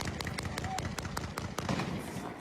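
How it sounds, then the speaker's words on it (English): Rapid bursts of close gunfire, a string of sharp cracks in quick irregular succession, with voices in the background. "At that moment, bursts of gunfire erupt close by"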